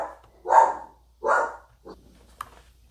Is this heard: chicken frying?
no